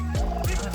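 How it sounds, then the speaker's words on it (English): Young guinea fowls on a multi-purpose bird farm give a quick pair of harsh, gobbling calls, close by and moderately loud in a burst under a second long. "There's some young guinea fowls in here."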